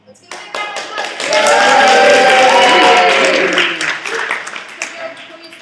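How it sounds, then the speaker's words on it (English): A room of audience members claps for Gerald. The applause swells quickly from a few scattered claps into dense, loud clapping nearby, holds for a couple of seconds, then thins out into a few trailing claps. "Let's give a big round of applause."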